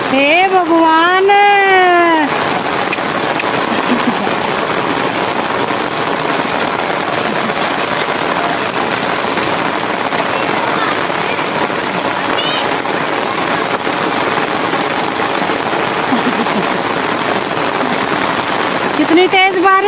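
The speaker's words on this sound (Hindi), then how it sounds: "कितनी तेज बारिश हो रही है।" Heavy rain pours steadily on a house, a dense, loud, unbroken hiss that fills the whole stretch, with a person's voice briefly at the start and end.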